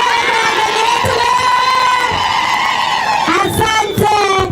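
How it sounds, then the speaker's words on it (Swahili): A loud crowd at an outdoor community activism gathering cheers, whoops and ululates in high, trilling voices, with shouting and excited chatter building and swelling toward the end. "wapi shangwe na vigelegele"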